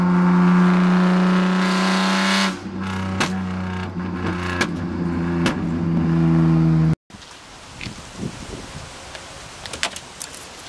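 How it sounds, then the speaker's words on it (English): A BMW M3 GTR exhaust drones loudly with a steady, buzzy rasp for several seconds, then cuts off abruptly, leaving faint clatter and a few sharp pops. "See, you'll hear the rasp right here."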